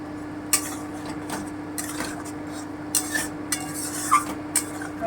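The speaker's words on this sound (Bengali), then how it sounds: "আমি আলুগুলো দিয়ে দিচ্ছি আমি আঁচটা একটু বাড়িয়ে দিচ্ছি" Potatoes tipped into a pot of country chicken on the stove, with clinks of a metal spoon against the pan and light stirring scrapes over a steady background hum, no talking.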